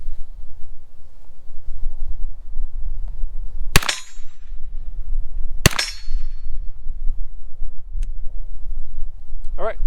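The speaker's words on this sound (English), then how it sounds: "go ahead and let off 2 rounds. Again, we are shooting steel." Two sharp, loud 9mm shots from a Bilson Arms forward-charging pistol at an outdoor range firing on steel targets, spaced about two seconds apart over steady wind noise, followed by a faint metallic tick.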